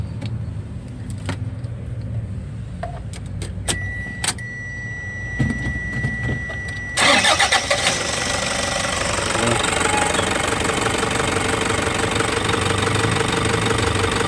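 A Toyota Hiace with a 1KD diesel engine, misfiring and low on power, is cranked and starts; after some clicks and a starter whine the engine catches into a loud, rough, clattering idle that runs steadily.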